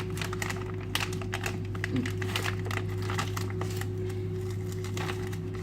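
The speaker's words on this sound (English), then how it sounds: "Dude, what is it with these Fisher nut bags?" A plastic Fisher nut bag is crinkled and handled in a kitchen, giving repeated close crackling rustles over a steady electrical hum, with someone speaking over it.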